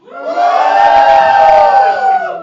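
A large crowd in Ljubljana city hall roars and cheers loudly, a sustained wall of shouting voices that swells quickly and holds for a couple of seconds before easing off.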